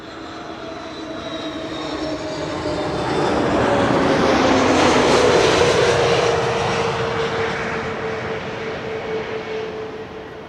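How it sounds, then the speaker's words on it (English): An Airbus A321neo arriving from London Heathrow roars in to land at Schiphol, its jet noise swelling loud as it passes close overhead, engine whine sliding down in pitch, then easing off. "This is Caleb Flight 1002, arriving from London Heathrow"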